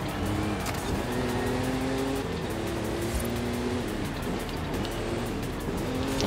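A car drives in the racing game Forza Horizon 5, a steady loud engine drone with rising and falling gear shifts and faint tire noise, continuous throughout.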